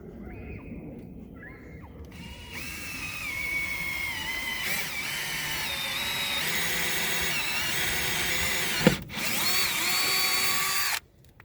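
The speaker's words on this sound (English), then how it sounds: "This first hole I'm going to drill right here is right on the edge of that cross member" A power drill whirs steadily for several seconds as the bit bores through a cross member while mounting a diving board, with a brief catch near the end before the motor stops.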